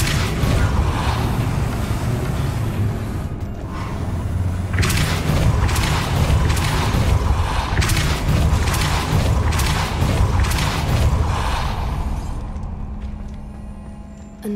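Depulso spell effect in a Harry Potter video game, a long rumbling mechanical boom with repeated creaking, thudding bursts through the middle, loud and sustained for about ten seconds before fading.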